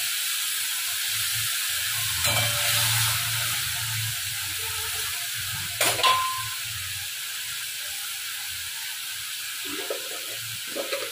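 Spice paste goes into reddened fried onions in a pan, giving a steady loud hiss and sizzle with a couple of sharp metallic scrapes, then quieter frying.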